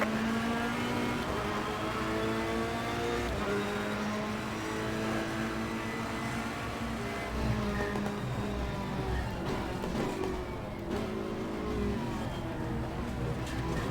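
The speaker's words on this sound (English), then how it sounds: "Again, this is the Ferrari 488. Green light, show them where you go." A Ferrari 488 engine hums and revs in a racing video game, a steady high-pitched drone with rising and falling gear shifts; a voice talks faintly underneath.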